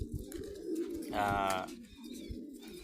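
Pet pigeons at a shrine in the Saudi Arabian desert give a soft, close coo in the middle, with faint chirps and a voice speaking around it.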